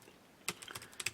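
A computer keyboard pressed during an Excel spreadsheet task, a quick burst of about five or six light clicking keystrokes, close and quiet after a brief silence.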